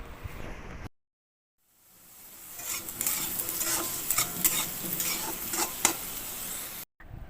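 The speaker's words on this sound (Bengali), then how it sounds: "আলুগুলো একটুখানি লাল লাল করে প্রথমে ভেজে নিতে হবে" Potatoes fry in mustard oil for a prawn dish, a steady close sizzle with stirring scrapes that starts after a brief silence and runs on without talk.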